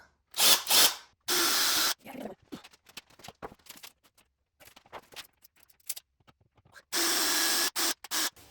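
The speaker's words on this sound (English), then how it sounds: "Time to pre-drill." A power drill whirs in a few short bursts, pre-drilling holes into a wall stud, with quieter handling clatter and scraping between them.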